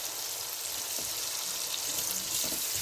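Water poured into a pan of frying masala for desi-style bhindi sabzi, giving a steady hiss and sizzle close by with no talk.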